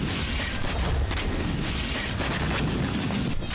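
Continuous loud rumbling blasts and booms, like heavy explosions or artillery, dense and unbroken throughout.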